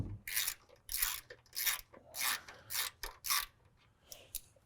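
Ratchet wrench turning 13 millimeter nuts on a vehicle frame, a series of about eight short bursts of rapid clicking, close and fairly quiet, with pauses between strokes.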